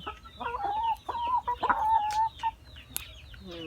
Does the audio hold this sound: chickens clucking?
yes